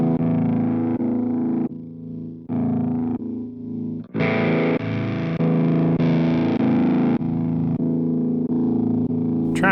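Electric guitar run through the Savage amp model of a Donner Arena 2000 multi-effects unit, distorted chords and held notes with short gaps, moderately loud and close, no voices.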